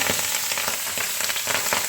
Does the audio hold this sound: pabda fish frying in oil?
yes